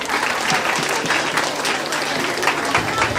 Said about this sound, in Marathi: यासाठी जरा एकदा जोरदार टाळ्या होऊ द्या